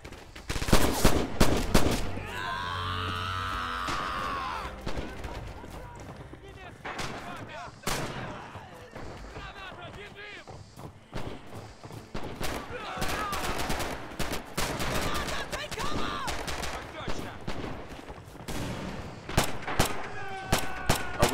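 Red Orchestra 2 video game gunfire, World War II combat on a bridge map: a burst of loud close rifle and machine-gun shots, then continuing scattered bangs and distant firing under rumbling battle noise.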